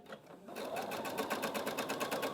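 A sewing machine stitches the curved upward edge of a two-layer blouse, starting after a brief pause and then running in a steady, close, rapid mechanical patter.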